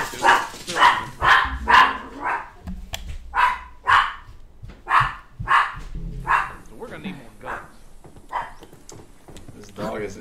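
A dog in The Last of Us Remastered barks in a quick string of sharp, fairly close yelps and bow-wows, spread over several seconds, with a voice talking faintly underneath.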